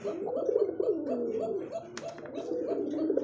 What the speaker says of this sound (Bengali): এটা সিঙ্গেল রাসগোল্লা নর কবুতর ডাকতেছে দেখেন